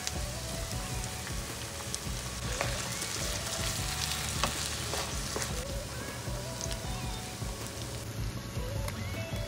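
Spices and chopped tomatoes frying together for a spicy egg curry give a steady, dense sizzle that runs unbroken and fairly close throughout, with no talking.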